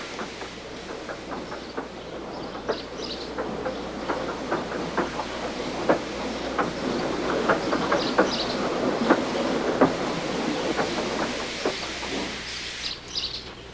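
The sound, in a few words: steam engine train running on rails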